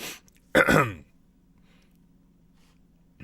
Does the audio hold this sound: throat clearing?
yes